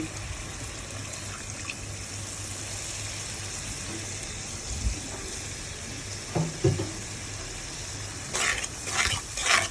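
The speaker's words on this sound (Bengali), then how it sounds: "এবার সামান্য একটু পানি দিয়ে নেব।" A splash of water poured into spices frying in a pan for a fish dish, a steady hiss with a few utensil knocks and a burst of louder sizzling near the end.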